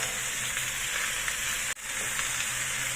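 Pork liempo frying in a pan, a steady close sizzle and crackle that runs without a break, with one short dip partway through.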